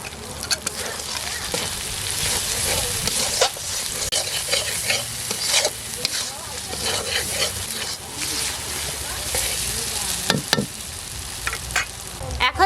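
Katla fish fries in a pan with turmeric, coriander powder and salt, sizzling loudly throughout, with repeated stirring scrapes and clatters close by.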